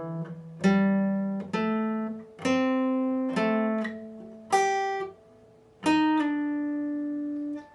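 Guitar part from a song played slowly: about seven picked notes spaced unevenly, including a slide, each sustaining and decaying, up close with no voices.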